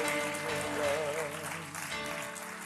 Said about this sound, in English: Let me hear you give the Lord a victory clap.